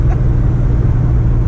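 Low, steady engine rumble from an LS-swapped Chevrolet Nova cruising on its first drive, a continuous close drone without distinct revs.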